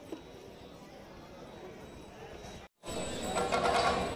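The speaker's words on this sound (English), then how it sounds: "Two more horses entering the field." Horses' hooves as horses enter the stadium field on the last day of Hola Mohalla, a Nihang Sikh gathering, amid a steady roar of crowd chatter that briefly cuts out, then swells louder and busier.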